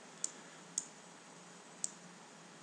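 Four sharp, faint computer mouse clicks, spaced unevenly over a quiet background hum, while a template view is being scrolled in ERP testing software.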